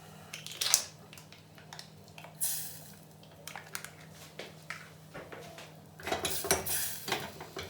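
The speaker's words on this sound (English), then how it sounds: "I'm going to put my Knorr stock" A Knorr stock pot goes into a pan of peppercorn sauce, bringing soft clinks and scrapes of a utensil against the pan and a few louder metallic knocks, close but fairly quiet, with no voice.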